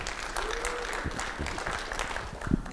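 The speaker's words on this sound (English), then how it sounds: "A huge round of applause to Kelly for that." An audience at a community education event applauds, a brief burst of dense, fairly quiet clapping that stays even throughout and ends with one sharper clap.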